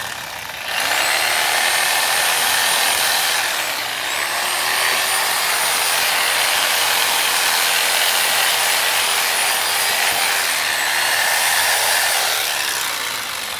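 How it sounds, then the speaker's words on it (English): A Sawzall reciprocating saw runs loud and close, cutting tangled debris out of garden tiller blades. It whines steadily for over ten seconds, with brief dips in pitch where the blade bites and slows. "I like the Sawzall because when it's jerking back and forth, it actually tries, or actually pulls some of it out."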